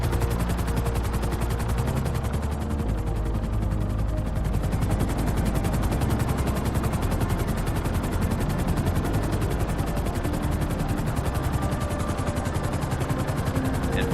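Trevor's helicopter in GTA 5 flying steadily, its rotor chopping in a fast, dense, continuous pulse over a loud engine whine and roar that stays constant throughout, with no voices.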